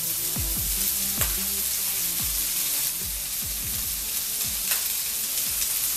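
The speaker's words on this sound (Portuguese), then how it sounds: "Agora vamos acrescentar um mix de pimentão picadinho verde, amarelo e vermelho." Diced green, yellow and red bell peppers sizzle loudly in a hot pan, with a steady frying crackle and repeated scraping stirs, close up with no talking.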